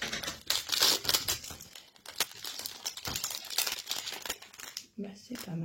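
Plastic packaging on a Temu parcel crinkles and tears in repeated close, loud bursts as it is pulled open. A voice speaks briefly near the end.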